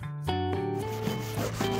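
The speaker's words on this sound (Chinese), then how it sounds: "你可以试一下砂纸。" Sandpaper held by hand rubs over the old wooden furniture in quick back-and-forth strokes, a close, steady scratchy rasp with several distinct pushes.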